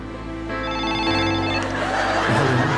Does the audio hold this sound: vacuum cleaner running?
no